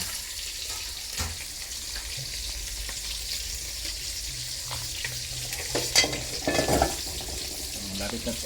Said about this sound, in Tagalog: Malapit na rin matapos ang prito.